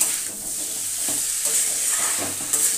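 Curry is stirred and cooked in a pan, with a close, steady sizzle and repeated scraping strokes of the spoon at an uneven rhythm.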